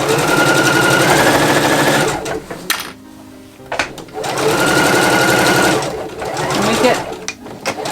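A sewing machine runs in long steady bursts as it stitches a side seam in woven fabric for a no-pattern top, pausing briefly in between, with a voice speaking over it.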